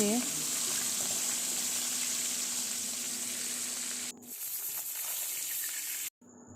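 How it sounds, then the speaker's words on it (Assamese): Fish frying in oil for an Assamese fish curry, a steady close hiss and sizzle that thins out partway through and briefly cuts off near the end. "এয়া মই ঢেকীয়া মাছৰ জোল বনাবৰ বাবে মই প্ৰথমে মাছখিনি ভাজি ল'ম"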